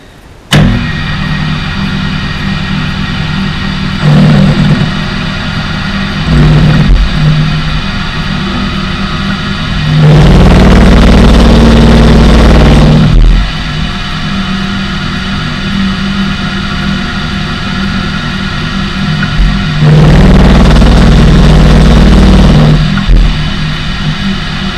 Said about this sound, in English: I'm just going to use my 7/16 solid carbide end mill, and we're just going to nub it off